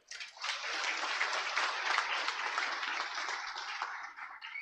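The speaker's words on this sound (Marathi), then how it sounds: "हात वर करून टाळ्या वाजल्या पाहिजेत" A crowd at a BJP party workers' rally in Kudal claps and applauds in one dense, sustained wash lasting several seconds, fairly distant and without pause.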